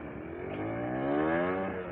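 A motorcycle fitted with a PWK 28 carburettor and Diablo Rosso Sport tyres is ridden past, its engine note droning and rising smoothly as it revs over two seconds, fairly close and with no talk.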